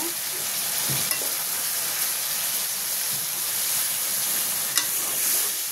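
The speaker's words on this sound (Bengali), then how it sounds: "আমি এখন ঝোলের জন্য পানি দিয়ে দিব।" Frying koi fish curry with taro in a pan as water is added for the gravy, giving a dense continuous sizzle and hiss with a few sharp spatters and clinks.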